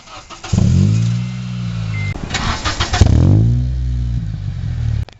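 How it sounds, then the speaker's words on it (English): A manual-transmission car is started with the ignition key: the starter cranks, the engine catches and idles, then cranks again and settles into a steady close idle before cutting off. "put the clutch all the way in, put the key in, and turn the ignition"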